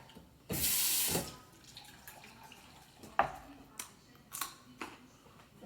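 Water is poured from a tap into a pan holding a vegetable mélange for poaching salmon; there is a short, close splashing rush, then scattered clinks and light kitchen handling sounds.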